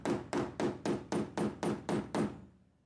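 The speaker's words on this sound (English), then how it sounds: "after hammering down on the stitches to flatten them" A hammer taps down linen thread stitches on a crocodile leather watch strap to flatten them, nine even, steady blows close by, each with a dull thud, then quiet.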